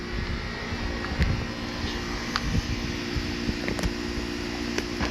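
A Big Blue engine-driven welder runs with a steady, droning hum of moderate loudness in the background. Occasional light clicks and knocks sit over the continuous engine tone, and nobody speaks.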